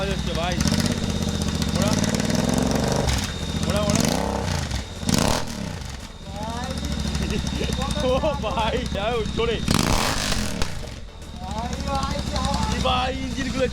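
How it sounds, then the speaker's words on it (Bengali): A Royal Enfield GT650 twin idles loudly with its exhaust removed, giving a steady, rough, close rumble throughout while people talk over it. "গাইজ তোমরা দেখতে পাচ্ছ আমাদের গাড়ির পুরো এক্সস্ট খোলা হয়ে গেছে, হচ্ছে আইডল সাউন্ড"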